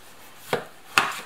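A kitchen knife cuts into a fish fillet, giving two brief, crisp chopping taps on a board about half a second apart, close and fairly quiet.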